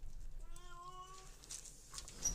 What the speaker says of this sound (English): And my cat wants something.